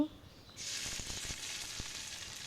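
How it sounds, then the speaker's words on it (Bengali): Saag greens start sizzling in a hot pan at a home kitchen, a sudden steady hiss that rises after a brief quiet start and continues with a few soft clinks. "তো আমি আগে এখন শাকটা রান্না করে নেব"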